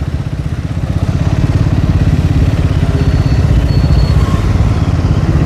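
Triumph motorcycle engine running close by, a loud, steady, rapid throbbing idle with a mechanical clatter, no voices over it.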